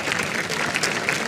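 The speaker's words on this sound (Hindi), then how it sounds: "तालियां बजाओ भाई." An audience applauds Neeraj Chopra at a table talk. The clapping is a short, steady burst of dense applause lasting about a second.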